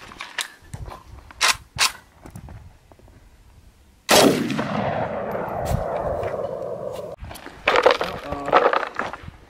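An AK rifle fires 7.62 rounds outdoors at homemade body armor. A few loud, sharp reports are spaced over several seconds, and each crack rings off into a long, echoing roll and metallic clangs, with no talk.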